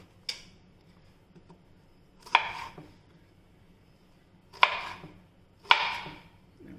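Raw jackfruit chopped into pieces with a knife, giving four sharp, separate chopping strikes spaced unevenly over several seconds against a quiet background.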